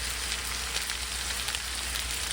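Shrimp dropped into a hot pan of seasoned rice and vegetables for homemade shrimp fried rice, a steady loud sizzle and crackle of frying that holds evenly throughout, close by with no talk.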